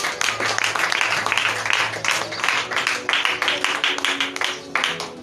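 A church congregation applauds during a French-language sermon, a dense, sustained wash of clapping filling the space for several seconds with pulsing surges, loud and close.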